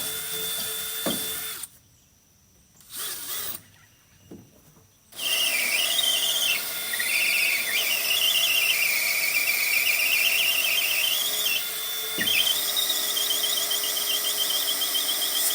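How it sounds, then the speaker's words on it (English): A high-pitched electric drill whines steadily drilling holes into steel, pausing twice early on, then grinding continuously with a shrill, wavering squeal. "Same thing, drill some more holes."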